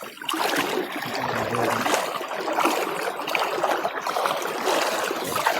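Floodwater rushes beneath a village bridge in Chachasana's farm area as a loud, continuous broadband wash, steady and close, with no clear talking.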